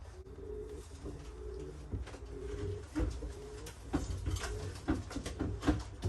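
Breeding pigeons coo repeatedly, low rolling coos in a loose rhythm with some fluttering and shuffling noises, fairly close.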